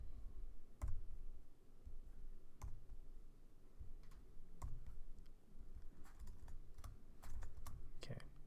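Java code being typed on a computer keyboard, soft scattered key clicks and taps at an uneven pace, quiet and close, with a person talking throughout.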